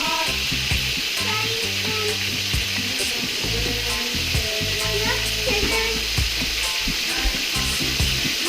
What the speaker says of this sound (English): So I'm gonna take my whole fish fillet, just gonna dump it right there in the pan. Let it fry up there for a minute.